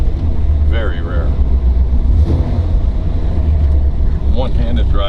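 A 1969 Dodge Charger 500 with a HEMI and a 4-speed, driven on the road: a loud, steady low engine rumble with wind noise, and someone talking over it.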